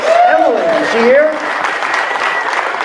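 Audience at a live fishing awards show claps for a female angler called up to the stage, with a short burst of applause under an excited announcer's voice.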